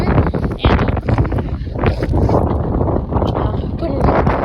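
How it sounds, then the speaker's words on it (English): Strong wind buffets the microphone outdoors on a farm, a rough, gusty roar that rises and falls throughout, with no clear pauses. "it's starting to get really windy outside"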